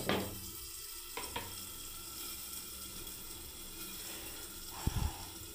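Pointed gourd curry cooking in mustard oil gives a steady, low sizzling hiss, with a couple of spoon clunks from stirring, one early and a louder scrape near the end.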